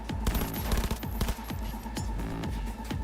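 Rapid SMG bursts in the video game Cyberpunk, close and crisp, firing in several quick volleys with short gaps between them.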